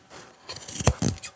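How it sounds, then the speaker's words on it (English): Scissors snip through denim jeans near a zipper in a few quick, crisp cuts, close and alone. "So I'm going to cut in on top and bottom."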